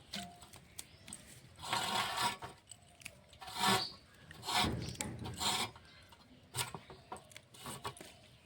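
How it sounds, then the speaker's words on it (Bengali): Knife chopping vegetables, including eggplant, on a board, a series of scraping, rasping cuts in irregular bursts, close and fairly quiet, no voices. "এখন সবজিটা আমি কেটে নিচ্ছি"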